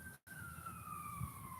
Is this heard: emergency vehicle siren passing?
yes